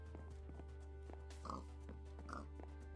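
A Minecraft pig gives two short grunting oinks over a low steady hum, fairly quiet and close, with light clicking in between.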